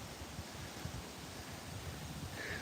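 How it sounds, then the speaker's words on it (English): Soft, steady wind buffeting the microphone, a low rumbling hiss with no other distinct sounds. "It's really windy"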